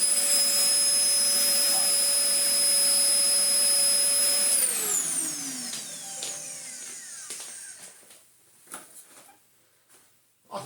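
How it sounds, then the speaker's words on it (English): A Dyson DC04 vacuum cleaner with a badly worn clutch whines loudly and steadily, then winds down with falling tones as the motor spins off, leaving quiet clicks and handling knocks. "You can listen to what a completely tracked clutch sounds like"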